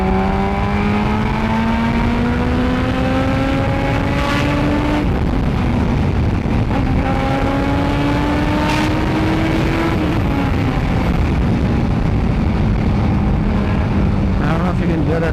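Carburetted Yamaha RX two-stroke motorcycle revs hard while riding, engine pitch climbing through several gears with brief drops at shifts, loud and close over heavy wind rush.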